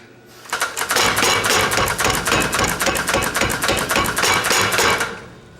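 A blacksmith hammering hot metal in a hammer die at a smithing conference, a rapid, steady run of loud, ringing metallic blows, close up, lasting several seconds before stopping.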